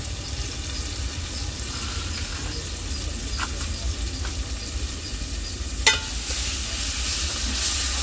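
Spices and salt stirred into a simmering fish curry in a pan: a steady low sizzle and bubbling throughout, with a few faint scrapes and one sharp clink of the spoon near the end.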